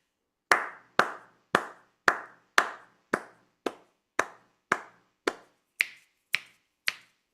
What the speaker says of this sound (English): What I'm hearing now is just your clapping or your thumb.